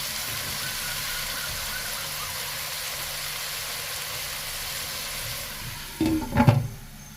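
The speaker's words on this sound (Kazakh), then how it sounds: "Осы етті қуырып аламын" Beef frying in a pan for a meat strudel, a steady soft sizzle running throughout, with a brief louder clatter of handling or stirring near the end.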